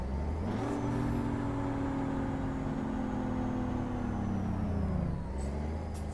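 A Volkswagen Titan rigid cargo truck in Euro Truck Simulator 2 engine-brakes, a steady low drone that holds and then drops away near the end, with a brief hiss, loud and close.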